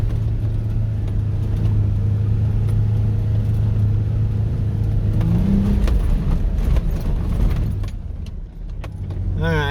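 A four-wheel-drive vehicle crawls uphill in low range with the locker engaged, its engine giving a loud, steady, close drone with light rattles and clinks from the cab.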